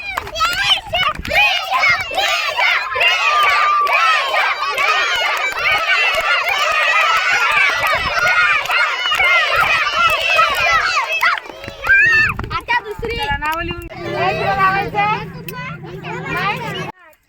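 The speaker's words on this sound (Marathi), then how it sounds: "इयत्ता पहिली धावणे स्पर्धा." First-grade children run a footrace at a tribal hamlet's district council school sports meet, with loud, continuous excited shouting and cheering from many children throughout, then nearer adult talk at the end.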